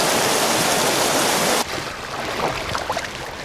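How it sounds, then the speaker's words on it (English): Rushing water of a river current pouring through small rapids on a canoe route, loud and steady, then dropping abruptly to a quieter, gurgling flow with scattered splashes. "I had a small rapid to negotiate."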